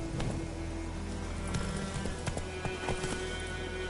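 Roach, a horse in The Witcher 3 video game, gallops in a quick, steady clip-clop of hooves, close and continuous over a constant background hum.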